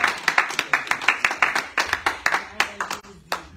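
Church congregation clapping to acclaim the Lord at a worship service, a loud steady rhythm of many hands beating together, with voices mixed in beneath the claps.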